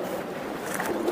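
A racing pigeon coos softly and close by in a loft, a brief low murmuring call over faint background hiss.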